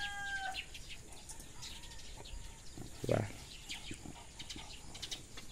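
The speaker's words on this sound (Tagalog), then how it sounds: "May manok." A chicken gives a brief flurry of flapping wings and a cluck around the middle, faint and somewhat distant in an outdoor setting with light background noise and a short spoken word.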